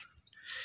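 A house shrew caught inside a rat cage trap in a vegetable garden gives a brief, faint, high-pitched shrill squeak, nearly alone apart from a little low background noise.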